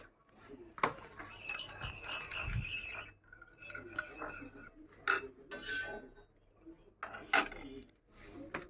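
Salt is stirred into food with a metal utensil, making a few scattered clinks and scrapes against a pan or bowl, moderately close and fairly quiet, with short pauses between strokes.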